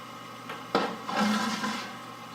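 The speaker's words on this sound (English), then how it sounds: "We're going to turn on full bore water" Water rushes at full flow through a brewery's wort chiller on a Black IPA brew day: a dull thump, then a steady broadband hiss swells and holds at moderate loudness.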